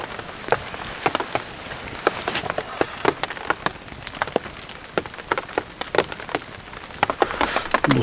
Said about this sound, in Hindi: बारिश रुक ही नहीं रही यार, बढ़ रही है बस, आप सुन रहे होंगे आवाज़